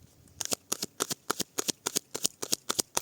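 Tarot cards being shuffled by hand, a quick run of about a dozen crisp, evenly spaced riffling slaps close up, with no talking.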